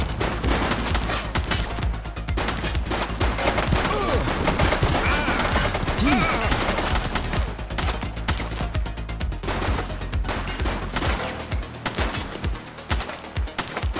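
A suspect opens fire in The Precinct, loud rapid gunshots crackling almost nonstop over a busy street scene, bursts layered and overlapping throughout without pause.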